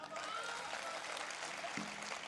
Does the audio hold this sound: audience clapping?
yes